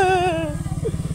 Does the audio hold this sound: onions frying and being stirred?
no